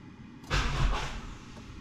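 A Honda Accord Type R engine cranks without firing in one short, loud, close burst that fades after about a second.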